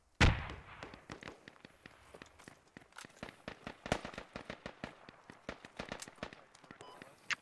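Gunfire in the military shooter game Squad: a loud opening shot followed by a long run of sharp cracks and bursts, some close and some distant, irregularly spaced and continuing throughout.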